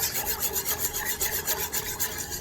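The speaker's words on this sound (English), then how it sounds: "And just keep whisking it until it reduces to a nice thick consistency." A whisk scrapes rhythmically around a pan of orange juice and honey for a citrus hot honey sauce, a steady, close rasping rub repeating in quick strokes with no talking.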